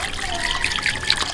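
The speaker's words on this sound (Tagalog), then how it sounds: "Lagyan natin ng kunting tubig." A little water trickles into a pan for outdoor-cooked chicharon bagnet, a short close splashing dribble with bright liquid spatters.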